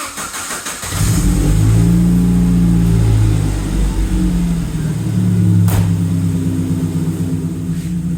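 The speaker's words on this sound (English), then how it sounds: "So now while the car is warming up, I'm going to let that coolant go through and burp" A Saab C900 engine catches and settles into a steady idle while warming up, a close, continuous low rumble with slight rises in revs and a brief sharp click partway through.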